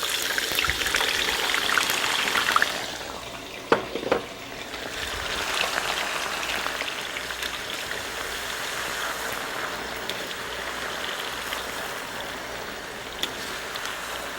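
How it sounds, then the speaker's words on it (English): Continuous crackling and sizzling of potato cubes deep frying in hot ghee in a wok, steady and fairly close, with a brief clatter near the start. "We're going to deep fry these in our wok."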